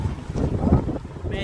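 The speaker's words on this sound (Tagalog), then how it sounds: "Medyo mahangin lang." Wind buffets a microphone on a boat, a brief low, rumbling gusty roar rising and falling over a second and a half.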